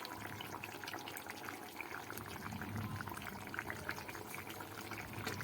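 A pot of vegetarian Bengali curry with lentil dhoka bubbles at a steady boil, a continuous soft gurgling and liquid churning that stays moderately close with no voices over it.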